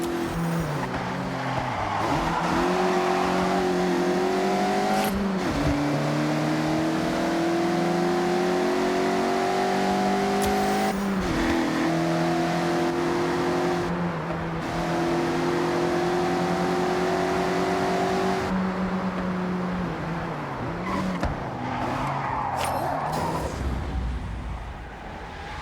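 Mazda MX-5 in Forza Horizon racing game, engine revving up and down in long rising sweeps with gear-change dips, tires squealing through sideways corners, loud and continuous without talk.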